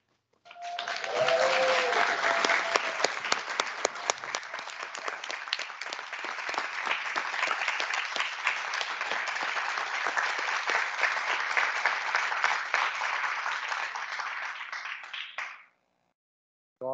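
An audience at a school district board meeting breaks into sustained, dense clapping for roughly fifteen seconds before stopping abruptly.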